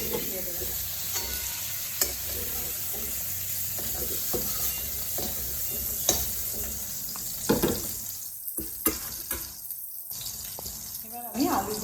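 Chicken pieces frying in oil in a pan for chicken curry, stirred and mixed: steady sizzle with intermittent scraping and clatter of the spoon, gaps of quieter frying toward the end, with brief talk mixed in.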